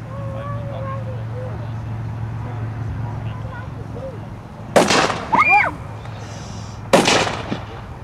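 WWII-era US rifles fire on a firing line, with two loud, sharp shots a couple of seconds apart and a ringing echo after each, over steady low background hum and some talk.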